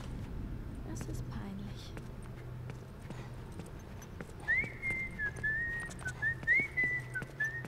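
In The Last of Us: Left Behind, a character whistles a short wavering, rising-and-falling tune in the second half, preceded by scattered footsteps, rustling and murmured talk under a low background hum.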